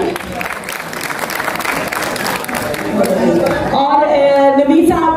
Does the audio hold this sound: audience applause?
yes